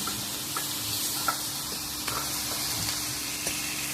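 Onions fry in a pan for a poppy-seed chicken dish, giving a continuous, close hissing sizzle with occasional light taps from stirring.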